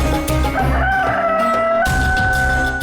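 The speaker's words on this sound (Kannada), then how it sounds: "ಕೋಳಿ ಕೂಗ್ತು ಬೆಳಕು ಹರಿತು ಅನ್ಸತ್ತೆ" A rooster crows loudly and close by, one long strained call, followed by a second crow starting near the end.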